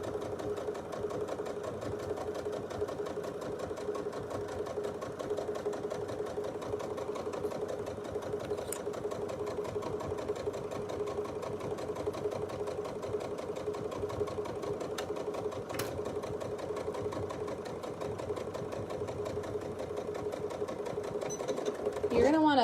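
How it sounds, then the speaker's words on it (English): A sewing machine runs steadily, stitching a quarter-inch seam on a mini tote at a 2.5 stitch length, its rapid even whirring chatter continuous and close, with a voice talking over it. "I'm just gonna sew a 1/4 inch."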